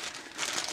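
A plastic bag crinkles briefly and close, a short papery rustle that swells toward the end of less than a second, with no talk.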